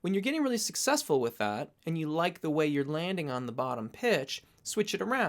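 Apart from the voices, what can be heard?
No everyday noises stand out.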